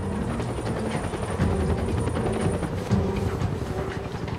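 A military helicopter marked with an American flag passes directly overhead, its rotor thumping rapidly and steadily, a loud rhythmic chopping that fills the short clip.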